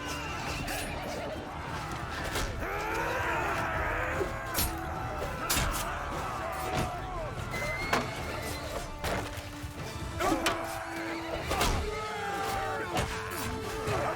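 Horses neigh during a chaotic medieval siege battle in the game Mount & Blade II: Bannerlord. The whinnies are mixed into constant clashing, shouting and impact noise from the fighting.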